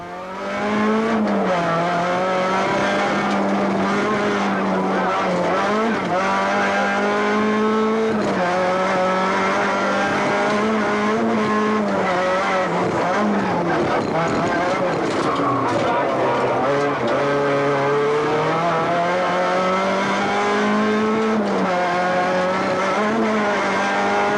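Rally cars race flat out on closed roads at the 1992 Tour of Mull, engines howling loud and continuous with rising and falling revs, gear changes and brief tire squeal throughout.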